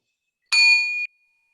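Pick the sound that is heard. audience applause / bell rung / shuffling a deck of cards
bell rung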